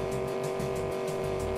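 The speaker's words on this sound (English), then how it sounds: "Revving the engine." Car engine in the video game Enviro-bear 2000 revving hard and steadily, a loud sustained motor drone with a pulsing buzz and no pauses.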